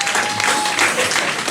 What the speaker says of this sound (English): keep clapping for them